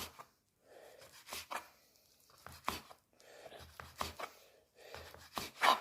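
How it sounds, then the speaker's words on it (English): A knife chops bacon into small julienne strips on a cutting board, giving quiet, close, sharp taps in small irregular bursts separated by short pauses. "making little cuts making little julienne pieces of bacon"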